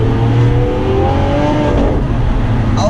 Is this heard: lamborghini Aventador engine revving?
yes